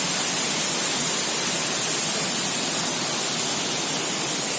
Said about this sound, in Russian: Это самый высокий водопад в Крыму